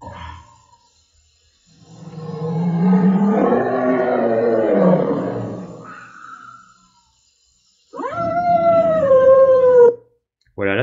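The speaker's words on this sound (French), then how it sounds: "Un loup-garou marche lentement dans une forêt et on peut entendre son rugissement." AI-generated werewolf walking slowly through a forest, a long, deep growling roar followed after a pause by a higher, drawn-out howl, loud and close against near silence.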